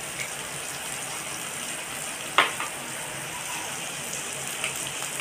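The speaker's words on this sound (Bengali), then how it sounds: "এই মশলাটা আমি কষিয়ে নেব ভালো করে।" Spice masala with tomato fries in a pan under a steady, fairly quiet sizzling hiss, with one brief sharp scrape of stirring partway through.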